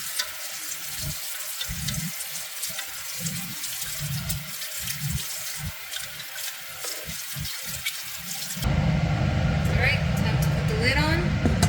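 Water poured into a soup pot for chicken veggie soup makes a steady splashing rush under a talking voice, then turns fuller and louder toward the end.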